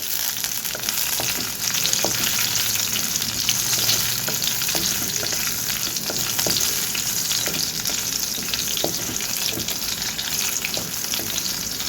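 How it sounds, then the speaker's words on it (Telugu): Garlic tempering sizzles and crackles steadily in a pan of hot oil for gongura dal, a dense, continuous frying hiss with small pops throughout and no talk. "ఇప్పుడు తాలింపు వేగిపోయింది కదా"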